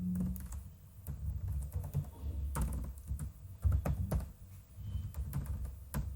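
Keys clatter in irregular bursts as code is typed on a computer keyboard, close and moderately loud, with brief pauses between runs of taps and a low background hum.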